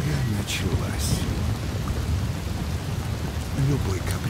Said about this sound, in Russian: Буря началась.